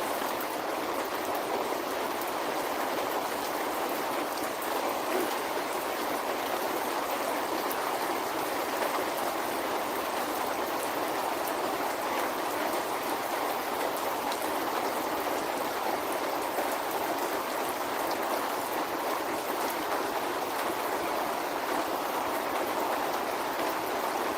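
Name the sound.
heavy rain falling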